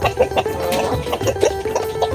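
Original-breed laying hen in a backyard coop, clucking in quick repeated bursts close by with a steady low murmur beneath, with no talking.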